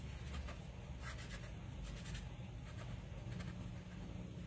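Acrylic pencils scratch and rub steadily across paper, a close, continuous dry scraping with faint strokes rising and falling, no voices.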